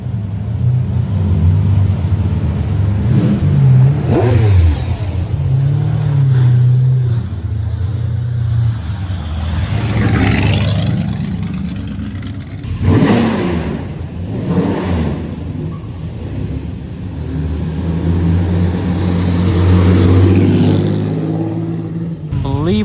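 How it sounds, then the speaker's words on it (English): Glickenhaus Hypercar road car revving its engine at the Villa d'Este concours, deep low engine tone rising and falling over about twenty seconds amid a crowd, with people talking throughout. "I believe we have the Glickenhaus Hypercar road car."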